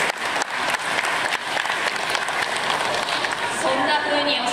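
A crowd at a volleyball team's victory report event in Saga breaks into sustained applause, a thick, steady clatter of many hands that carries on throughout, with some voices faintly mixed in.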